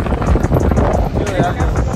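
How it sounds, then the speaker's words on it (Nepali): Gusty wind at Ilsan beach, Korea, buffets the microphone in a steady low roar throughout, with voices faintly underneath. "हावा चलेको"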